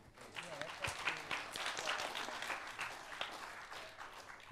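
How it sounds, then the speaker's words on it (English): Audience clapping after a special session presentation at the SAFET 2023 conference, fairly quiet and a little uneven, with talk and cheers mixed in. "Big round of applause, please."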